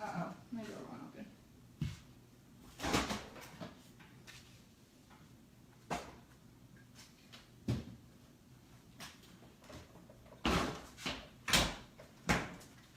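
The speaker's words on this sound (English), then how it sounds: "Uh-oh, my door won't open." A door in a home kitchen is tugged again and again without opening, giving a series of sharp clunks and rattles spread across the stretch, with a person talking in between.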